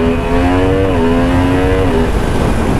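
Yamaha MT-10 SP 2023 naked motorcycle engine revving loudly and steadily close by, a strong harmonic drone dipping slightly in pitch partway through, with no talk.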